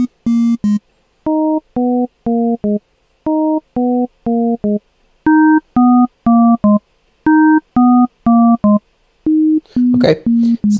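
A synthesizer oscillator plays a sequence of short, loud, clean electronic tones in a rhythmic melodic pattern at varying pitches, followed by a brief burst of noisier sound at the end.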